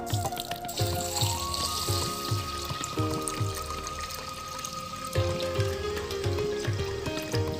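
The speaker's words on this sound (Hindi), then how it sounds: "ये देखिए ये जा रहा है इसके अंदर पानी।" Water pours steadily into a kadhai holding a kilo of sugar for rasgulla syrup, a continuous close splashing and trickling over a rhythmic thumping music beat.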